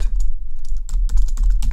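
Rapid typing on a computer keyboard, with a close, steady patter of keystrokes that runs through the whole stretch and has no talk over it.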